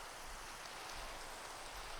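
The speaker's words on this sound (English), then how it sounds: "Okay, I guess we're working in the rain." Steady, faint rain hisses evenly in a Minecraft world, a soft continuous wash with no other sounds.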